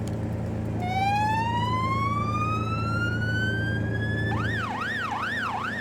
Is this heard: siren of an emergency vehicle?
yes